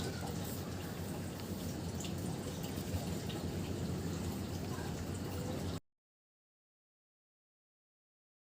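Chicken pieces frying in hot oil for chilli chicken, a dense steady crackle and sizzle close up for several seconds before cutting off into silence.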